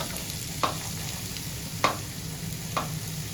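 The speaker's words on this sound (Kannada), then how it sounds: "ಆ ನೀರುಳ್ಳಿ ಹಾಕ್ತಿದ್ದೇನೆ." Chopped onions frying in hot ghee in a pan for a Mangalorean chicken ghee roast, a steady soft sizzle with three faint stirring scrapes spaced about a second apart.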